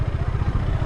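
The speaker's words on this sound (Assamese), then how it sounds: "মই এতিয়া বাইকখন চলাই আছোঁ নহয়" Close-up throb of a KTM motorcycle engine under way, a fast even thumping pulse that stays loud and constant with no voices over it.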